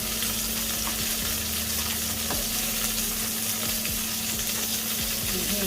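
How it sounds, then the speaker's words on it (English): Chicken wings frying in a small amount of oil in a pan, a dense continuous sizzle with a low steady hum and occasional sharper pops and knocks, close and uninterrupted by speech. "Then I'll fry it again. I'll cover it."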